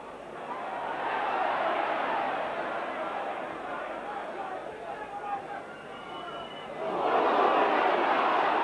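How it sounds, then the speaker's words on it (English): A rugby league stadium crowd roars in a broad, sustained wash, swelling again near the end, while a commentator talks over it. "And the crowd certainly shouting for one or two things"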